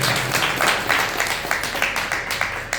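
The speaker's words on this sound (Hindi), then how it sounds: "जोरदार ताली मारो" Audience clapping at a Hindu religious katha gathering on cow reverence, a steady broadband patter of many hands lasting a few seconds, with no speech over it.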